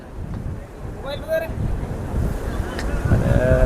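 Wind buffets the microphone while sea waves wash and surge in the background at high tide beside Haji Ali Dargah, Mumbai, growing stronger toward the end.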